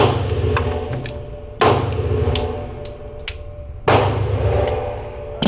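Sharp, loud pistol shots from a Walther Q5 Match SF fired outdoors, three main cracks spaced a couple of seconds apart with fainter pops and clinks between them, with no talking.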